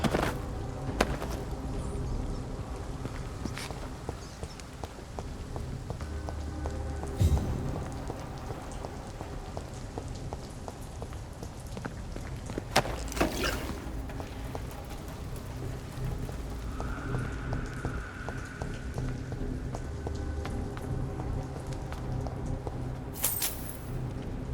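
Steady rain pours down in a dark game world from Vampyr, a dense continuous hiss with scattered heavier drops and brief clatters, holding an even level throughout.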